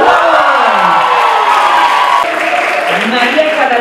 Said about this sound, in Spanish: Un aplauso número 1.